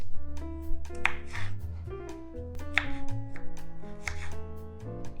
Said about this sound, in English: Now we have chopped the onion, spinach and the garlic pods